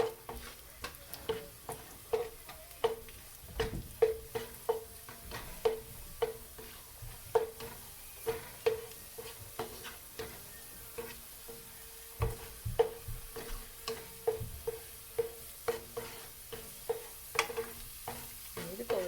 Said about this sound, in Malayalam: ഇനി ഞാൻ മുന്തിരി ആഡ് ചെയ്ത് കൊടുക്കാം.